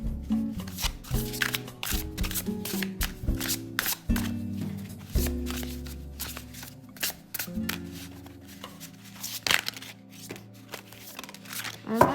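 A deck of tarot cards is shuffled close up, with repeated riffles and rapid papery flutters in bursts over soft background music.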